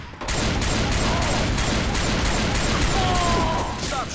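Gunfire in the video game Left 4 Dead 2 during aim training, a dense, loud, continuous burst of rapid shots that runs almost the whole time with mechanical clatter.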